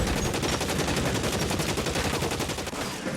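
Heavy automatic gunfire from enemies' big gun in the L.A. Noire video game, a dense continuous burst of rapid shots, loud and close, sustained throughout.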